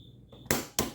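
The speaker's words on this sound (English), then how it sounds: "You just heard it crack at 70." A Pittsburgh Pro 3/8 in. drive impact wobble socket extension with a 19 socket cracks under torque at 70 foot-pounds, giving two sharp, loud metallic snaps about a quarter second apart after a quiet, faint ratcheting lead-in.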